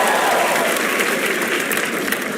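A comedy roast show crowd breaks into loud, sustained applause, a thick continuous roar of clapping close and even from start to finish.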